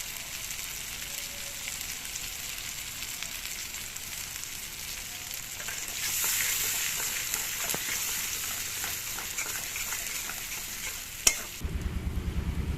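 Nigella seed paste with green chili paste is stir-fried in oil for a pabda fish curry, a low steady frying hiss with scraping stirs that swell midway, ending in a sharp clank.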